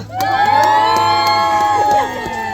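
A wedding crowd at a haldi-mehendi celebration cheers and shouts together, loud and close, with several voices holding long whooping cries before fading into scattered chatter.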